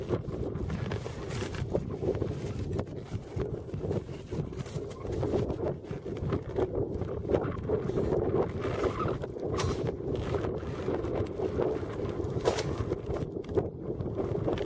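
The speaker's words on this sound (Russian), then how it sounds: "Микрофон сегодня навряд ли что слышно будет. Ветер уже усилился достаточно." Strong gusting wind buffets an outdoor microphone on a burbot fishing trip as the weather turns, a constant low rumble with uneven, rough bursts throughout.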